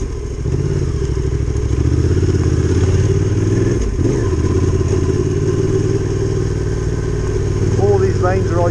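An adventure motorcycle drones steadily on a green lane trail in Wales, with the engine loud and close and a thump partway through.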